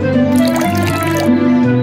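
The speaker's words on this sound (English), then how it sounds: "the kind-hearted Mother Holle went down to water the flowers in the garden." Water drips and trickles as flowers are watered in a garden, a short run of close liquid splashes over a steady musical tone.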